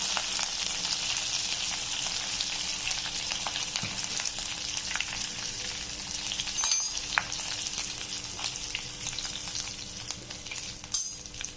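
Dried red chilies, curry leaves and asafoetida sizzle in hot oil for a tempering, a steady dense crackle with occasional sharper pops and stirring, close and continuous with no voices.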